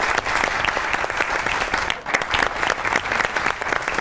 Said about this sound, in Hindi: दोनों के लिए ताली बजाइए पहले तो